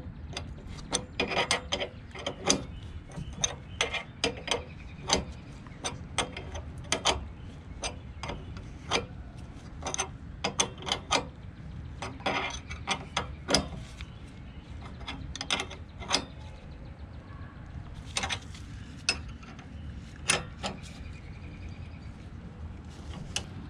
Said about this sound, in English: Tighten up the front caliper bolt.